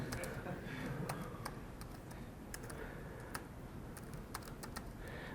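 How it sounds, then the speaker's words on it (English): Quick, light clicks of typing on a computer keyboard, with bursts of keystrokes over a quiet background hiss. "Maybe you can hear from the way I'm typing what my password is."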